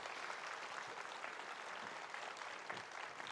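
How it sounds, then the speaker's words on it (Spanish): Steady audience applause fills a conference hall in Mexico, a dense, even wash of many hands clapping at moderate volume throughout. "Un fuerte aplauso, por favor"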